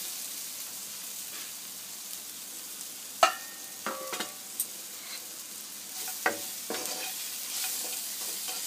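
Roasted badi (lentil dumplings) are tipped into a hot pan for Punjabi-style kaddu (pumpkin) sabzi, giving a soft steady sizzle broken by a few sharp scrapes and clinks of stirring, fairly quiet and with no talking.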